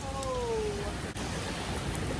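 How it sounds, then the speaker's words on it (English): Cold rain falls steadily on a Florida parking garage, a constant soft hiss filling the background with a brief high tone near the start. "It's raining now."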